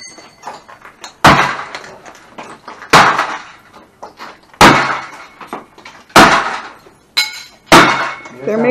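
A VCR is smashed in a smash room: about six heavy, evenly spaced crashing blows with cracking, shattering debris. Brief voices are heard between the hits.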